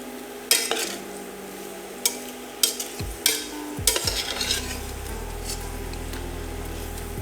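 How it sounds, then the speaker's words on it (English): A metal spatula scrapes browned fond from the bottom of a stainless steel pan while chicken pasta cooks, giving several distinct clinks and scrapes over a steady sizzle that deepens toward the end, close and with no voices. "You can gently scrape this away if you're using a stainless steel pan and something like a metal spatula that I'm using here too."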